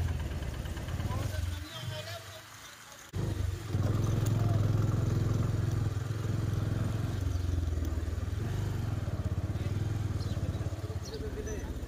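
A motorcycle engine runs steadily at low revs while the bike is being parked, loud and close, with a brief dip in level before a sustained idle; people talk nearby.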